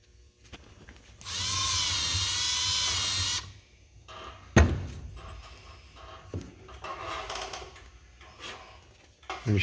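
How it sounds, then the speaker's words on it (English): A power drill whirs steadily for about two seconds, loud and close, drilling pilot holes for rivets while relining the brakes of a 1928 International Harvester Six Speed Special, followed by scattered clicks, taps and handling noises. "drill through some pilot holes through these so we know where to drill on the other side for the rivets"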